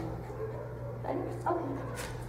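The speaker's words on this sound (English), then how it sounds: "We got a lot of dogs in the background barking." Faint dog barks and yips in the distance, a few short scattered bursts over a steady low hum.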